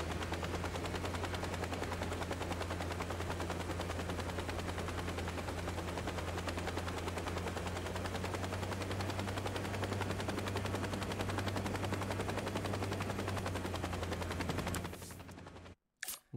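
A helicopter in the video game Saints Row drones with a steady low rotor thrum and rapid, even chopping pulses, continuous and fairly loud before stopping abruptly at the end.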